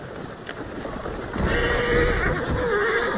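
A horse in the video game Assassin's Creed Syndicate whinnies loudly and close by, a drawn-out neigh over a low background, with no talking.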